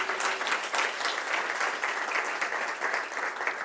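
Church congregation giving loud, sustained applause, a thick, even roar of many hands clapping together throughout.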